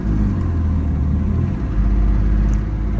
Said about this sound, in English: Show you that the choke works as it should. Idle runs up.